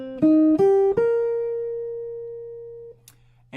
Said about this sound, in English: So if I wanted to expand that shape into an arpeggio, it'll sound something like this.